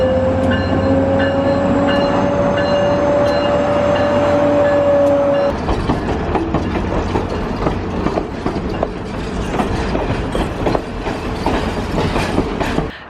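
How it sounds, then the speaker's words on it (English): A train rolls past close by with a steady rumble and rhythmic clickety-clack, preceded by a sustained horn-like tone. "We're waiting for the train to come past."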